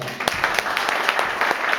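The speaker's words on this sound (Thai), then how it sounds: "ขอเสียงปรบมือด้วยนะครับ" Applause from a crowd at an Amway centre gathering in Phayao, a brisk, dense patter of many hands clapping at once, loud and close, continuing throughout without talk.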